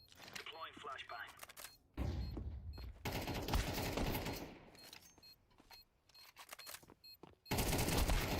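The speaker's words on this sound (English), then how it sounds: "Deploying flashbang." Counter-Strike gameplay with a flashbang and gunfire: bursts of loud rapid shots and a sharp blast come and go between quieter stretches, with a voice talking over the action.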